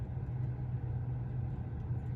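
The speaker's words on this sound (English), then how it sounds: "Now we're following the pickup with the loud exhaust" A pickup truck with a loud exhaust rumbles steadily close by, a low droning engine note heard from a following car with no pauses.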